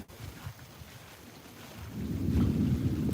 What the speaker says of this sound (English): now we're going to get some bigger raindrops